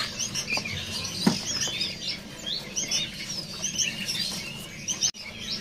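Many songbirds chirp and tweet continuously at a bird market kiosk, with dense overlapping calls, one brief louder knock near the middle and a low steady background hum.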